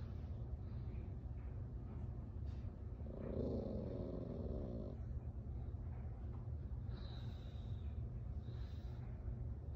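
An Aussiedoodle puppy growls at its own reflection in a window, a soft, low, rumbling growl that rises and falls in short bursts, quiet and close, with faint higher squeaky sounds in between.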